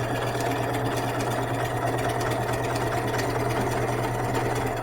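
A sewing machine runs steadily, stitching hanten fabric along a sleeve seam toward the cut edge, a continuous close whirring hum with a faint rapid needle pulse throughout.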